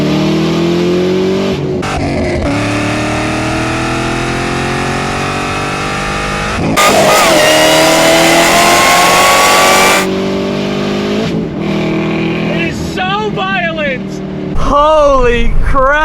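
A sports car engine roars loudly from inside the cabin as it accelerates hard along curvy roads, climbing in pitch through several gear shifts, with a voice exclaiming near the end.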